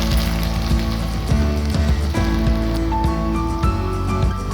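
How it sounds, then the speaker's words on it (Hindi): Okra (bhindi) fries in hot oil with a dense, continuous crackling sizzle like rain on a surface, close and fairly loud, with scattered sharper pops and no talk. "तो यहाँ पे हमारी जो भिंडी है वो माशाल्लाह से बहुत अच्छे तरीके से फ्राई हो रही है।"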